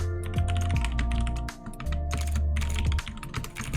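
Rapid, steady clatter of keys on a computer keyboard, close and loud, typing in quick bursts with a short pause partway through, and no voices.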